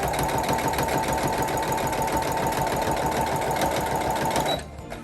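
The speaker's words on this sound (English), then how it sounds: "And then I'm going to sew all the way down," A sewing machine stitches down a zipper with a steady, fast mechanical whir and rapid needle patter close by, stopping abruptly near the end.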